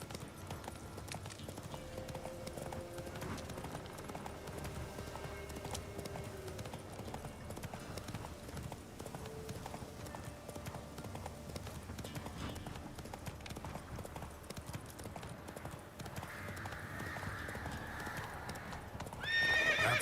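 Roach the horse from The Witcher 3 video game clip-clops steadily at a gallop for the whole stretch, hoofbeats busy and close, with a whinny breaking through and a louder burst near the end.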